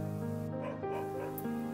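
A brief dog whimper or yip serves as a sound effect in a read-aloud of a children's picture book, short and clear over a soft musical background.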